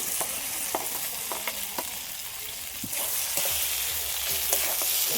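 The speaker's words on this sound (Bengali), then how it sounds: "পটল আর চিংড়ি মাছ দিয়ে দেবো সব একসাথে।" Pointed gourd, prawns and fried potatoes sizzle in spiced oil in a pan while a spoon stirs them, with sharp scraping clicks over a steady frying hiss that grows slightly louder.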